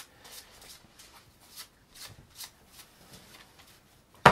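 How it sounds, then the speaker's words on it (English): Board game cards being shuffled by hand as a pile, a run of soft riffling bursts at a steady rhythm, close and fairly quiet, ending in one sharper louder snap. "Shuffle that pile."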